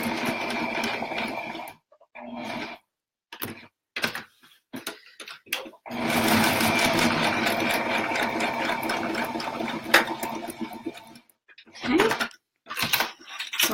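A sewing machine top stitches over an applique in a loud, rapid mechanical chatter, running in short stop-start bursts before a longer continuous run, with brief pauses and occasional clicks.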